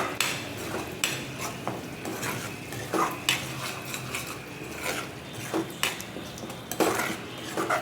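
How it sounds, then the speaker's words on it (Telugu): Yogurt with turmeric and chili frying in a pan for a soya chunk curry, a spoon repeatedly scraping and clinking against the metal in an uneven rhythm over a low sizzle, nearby and without speech. "వేసుకొని తిప్పుకుంటూ ఫ్రై చేసుకోవాలి."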